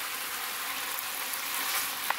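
Meat stir-frying in a pan with soy sauce, a steady, close hiss of sizzling that carries evenly throughout with a faint clink near the end.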